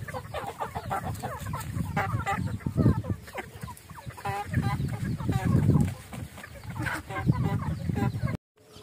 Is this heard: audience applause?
no